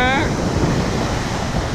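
Ocean waves surge and wash steadily at Hobe Sound during a fishing trip, a loud broadband roar of surf mixed with wind noise on the microphone, continuous throughout with a brief higher whine at the start.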